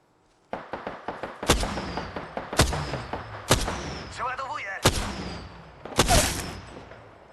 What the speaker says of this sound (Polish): dość mocny ostrzał